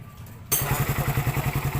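A Raider 150 motorcycle engine fires up after half a second of quiet and settles into a loud, close, steady idle with an even, rapid thumping beat, just after its exhaust pipe and gasket were refitted.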